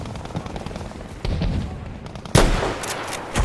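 Gunfire in the Battlefield 5 first-person shooter: a steady rattle of shots builds through the moment, then one loud, sharp blast lands near the end, followed by scattered reports.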